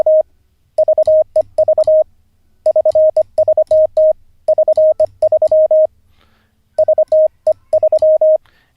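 Keyed Morse code tones practised by an amateur radio operator learning code, sending call sign prefixes as fast bursts of steady beeps in rhythmic groups separated by short pauses, loud and close with no talking.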